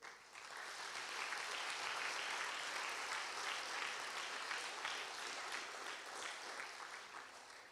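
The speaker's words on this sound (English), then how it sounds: "Let's show our appreciation for this beautiful offering the children have performed with a" Faint, distant applause from an audience after a children's performance at a National Easwaramma Day event, a steady wash of clapping rising and then easing off, with no voices.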